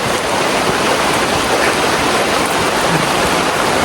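Heavy rain pours steadily near banana trees on a village path, a loud, dense, unbroken hiss that fills the whole clip with no voices.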